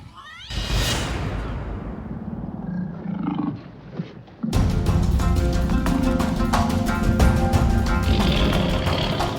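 A tiger lets out a loud, rumbling roar that fades, then a second powerful, sustained roar follows, close and dominant.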